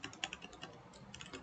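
Quick, uneven keystrokes on a computer keyboard while entering product details into a Flutter e-commerce app, close and fairly quiet, with no talking.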